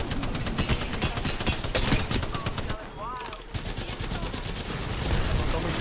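Rapid automatic gunfire from the Spitfire character in a team shooter game, dense rattling bursts that pause briefly then resume, with faint speech mixed in.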